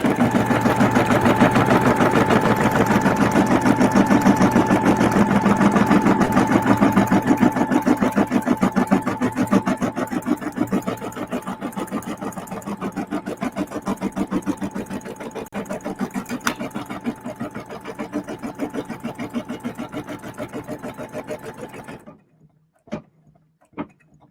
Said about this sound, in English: this is going to stitch the placement line